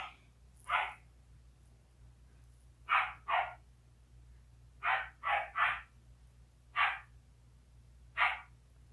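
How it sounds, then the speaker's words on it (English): Dog barking indoors, single barks and quick double and triple bursts spaced over several seconds, moderately loud against a quiet room. "My dog is barking."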